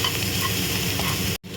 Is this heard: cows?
no